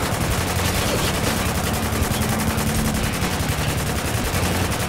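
Rifle fire rattles in rapid, continuous bursts during a combat firefight in Spec Ops: The Line, a dense, steady stream of shots with no voices.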